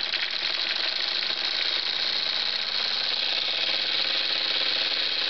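Jensen model 25 toy steam engine running with the throttle opened, a steady fast mechanical chuffing and whirring clatter at constant loudness, close up and without talking.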